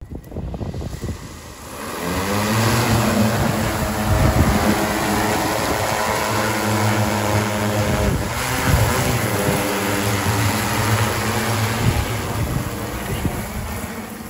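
A seeding drone with its hopper filled with native grass and forb seed flies overhead, its rotors giving a loud, steady whirring drone with broad rushing noise that holds throughout.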